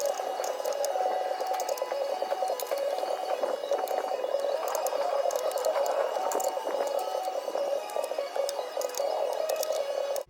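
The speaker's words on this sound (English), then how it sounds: "So I'm going to finish backing out these bolts on this side." Ratcheting wrench clicks steadily on transmission bolts under a Jeep Wrangler YJ during a clutch job, a dense, continuous mechanical chatter close to the mic with a faint whine behind it.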